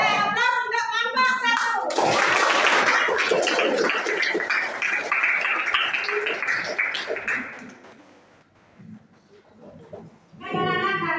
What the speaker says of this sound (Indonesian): Aplaus untuk kelompok